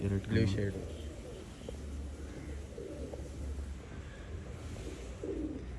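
Pigeons at a bird sale in Bangalore give low, soft coos in short bursts, close by at first and then quieter, under steady crowd chatter and nearby voices.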